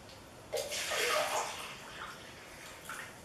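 Water pours into a neti pot for nasal cleansing, a short splashing fill that swells and then trails off into quieter trickles.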